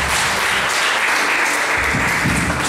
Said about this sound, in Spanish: Denle ese fuerte aplauso a Jesús y siéntese.